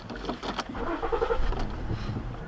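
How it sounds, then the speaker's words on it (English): A car engine cranks and turns over at the start of a driving test, settling into a low running rumble, recorded from inside the vehicle with no talking. "go ahead and start the car"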